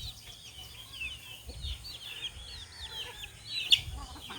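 Hens cluck and murmur while pecking at scattered rice in a backyard, soft repeated calls from several birds at close to middle distance, with one sharper squawk near the end and no speech.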